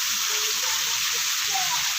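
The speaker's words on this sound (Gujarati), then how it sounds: "જો ફ્રેન્ડ અત્યારે ગામમાં હવે પાછો વરસાદ આવ્યો છે" Steady rain pours over a village, a dense continuous hiss with no break, fairly close and loud throughout.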